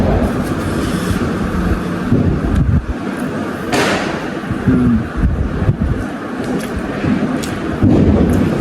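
Crackling bangs and booms of Diwali firecrackers go off in a noisy outdoor street scene, one sharp loud burst standing out amid the rumbling clatter.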